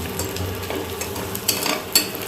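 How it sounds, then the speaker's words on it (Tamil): Onions sautéed in a pan for mushroom biryani, a soft continuous sizzle close by with a few sharp spoon-against-pan clinks as they are stirred. "வெங்காயம் நல்லா வதக்கிட்டு இருக்கேன்"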